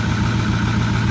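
A Ford F350 with a 6.4 engine idling roughly and shakily, a steady, loud, close low rumble with uneven pulsing and no talk.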